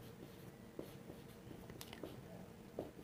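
Pen on paper while a maths problem on profit sharing is worked by hand: soft scratching strokes with a few sharper taps, quiet and close, with low talk in the background.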